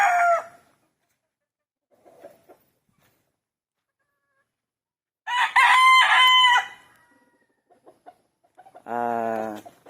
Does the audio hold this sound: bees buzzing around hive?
no